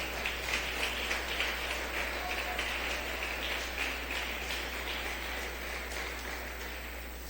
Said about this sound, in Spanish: Dele ese aplauso al Señor en esta mañana